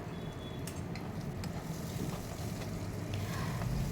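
Pumpkin pieces frying and being stirred in a pan with salt, a steady sizzle running throughout with faint scraping from a spatula, close and even, with no voices.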